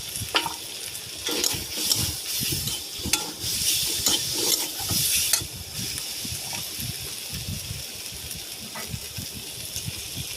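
Spices and green chillies fry in a pan for a sour prawn dish as a spoon stirs them through, giving a close, busy crackling sizzle with scraping strokes that settles into a steadier hiss, with no voices.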